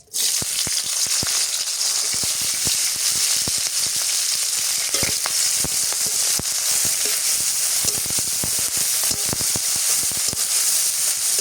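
Green chilies and onions dropped into hot oil, a loud, constant sizzle with crackling pops and spatters throughout, close up and uninterrupted.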